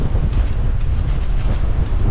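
Strong wind of about twenty knots blows across a sailboat at sea off southern Belize, a loud, constant roar and buffeting with heavy low rumble and no voices.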